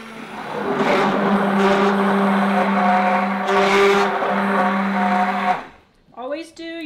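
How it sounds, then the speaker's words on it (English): A blender mixing for a zucchini cake whirs loudly and steadily for several seconds with a strong motor hum, then cuts off abruptly, followed by a brief voice. "Let me blend these and then I'll get to the question."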